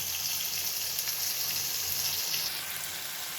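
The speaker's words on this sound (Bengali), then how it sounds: "এখন মশলাটা ভালোভাবে কষিয়ে নিচ্ছি" Spice paste of ginger, garlic, onion and tomato sizzling in a pan for a beef tripe curry, a dense steady hiss that runs close and unbroken throughout, with no talk.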